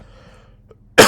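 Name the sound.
person coughing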